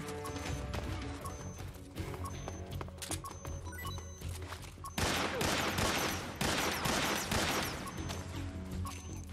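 Rapid bursts of SAA revolver gunfire in the online shooter Metal Gear Online, several sharp cracks in quick clusters over a busy, noisy game soundscape.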